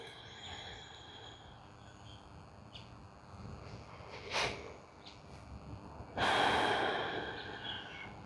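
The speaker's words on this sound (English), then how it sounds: "Take a deep breath in and a deep breath out." One slow, deep yoga breath, in and then out: a soft airy inhale, then a longer, louder exhale that fades, close and alone in a quiet room.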